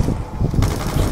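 MP40 submachine gun fire in a Call of Duty zombies match, a steady burst of rapid shots that is loud and close and runs the whole moment, growing denser in the second half with no talk over it.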